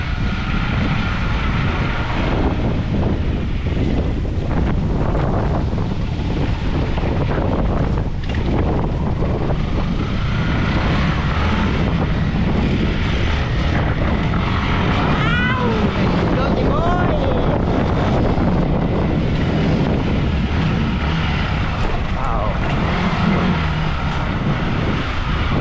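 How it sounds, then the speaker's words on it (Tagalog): Strong wind buffets the microphone in a continuous roar, with faint voices occasionally audible beneath the rushing noise. "lakas ng hangin."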